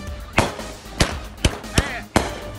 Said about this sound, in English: This firework is called Back the Blue.